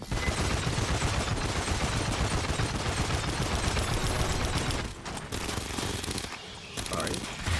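A video-game sentry gun fires automatically in a dense, loud, continuous rattle of rapid shots, then breaks off into sparser bursts toward the end.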